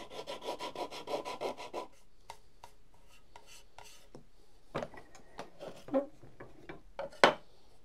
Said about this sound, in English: I'm just going to smooth over these corners by hand